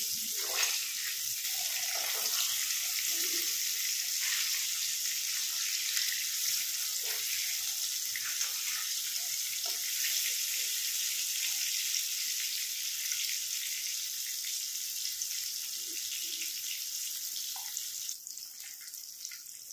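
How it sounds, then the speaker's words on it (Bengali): Eggs frying in a pan give off a steady, soft, hissing sizzle that carries on evenly for about twenty seconds, with only faint clicks underneath. "হালকা ভেজে তুলে নেব।"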